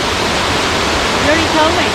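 Onondaga Falls, a 15-foot waterfall on the Falls Trail in Ricketts Glen, roars in a steady, loud broadband rush of falling water, close and unbroken throughout.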